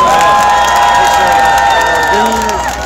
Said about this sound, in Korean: 먼저 박수 부탁드리고요